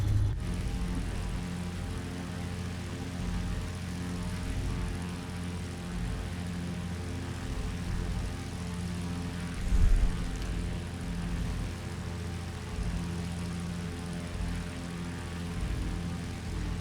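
A Morane-Saulnier MS733 vintage propeller airplane in Microsoft Flight Simulator 2020 drones on in a steady, loud, unbroken engine hum with a throbbing low rumble and no talking.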